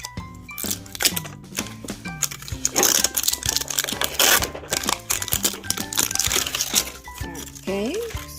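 Crinkly plastic packaging around an LOL Surprise doll is torn and unwrapped up close, with dense crackling and rustling bursts over several seconds and a voice briefly talking.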